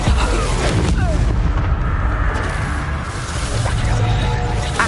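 A Bombarda spell blasts in Hogwarts Legacy, a loud booming explosion with a rumbling burst that stays dense and heavy throughout, mixed with game effects and a voice speaking.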